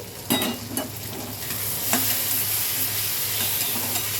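Capsicum sizzling in a pan, a steady frying hiss broken by a few sharp scrapes of a stirring spoon, close and without talk.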